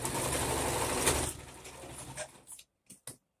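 A sewing machine stitches a band onto fabric, running in a steady close whir for just over a second before slowing and stopping, followed by a few faint clicks.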